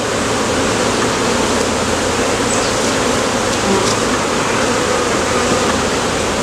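Loud, continuous hum of a mass of honeybees right up close, a thick unbroken buzz throughout.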